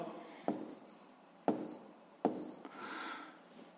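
A pen or chalk writes numbers for a seventh-grade physics exercise in a few quick strokes, each starting with a sharp tap and followed by scratchy scribbling, close and fairly quiet.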